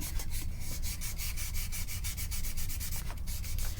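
Sandpaper rubs across a wooden guitar back plate that is being given an oil finish, in quick, repeated rhythmic strokes; the scratching is soft and close, with no voices.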